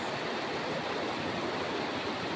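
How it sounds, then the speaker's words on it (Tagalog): A dense, continuous roar of the rushing Cayabu River in Tanay, Rizal fills the clip, loud and steady with no voices. "Malakas ang tubig, oh."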